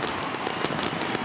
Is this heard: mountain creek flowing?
no